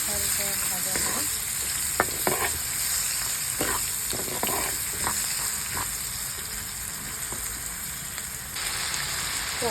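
Chopped onion frying with salt and turmeric in a pan gives a steady, close sizzle that runs the whole time, with a few sharp stirring scrapes and clicks on top.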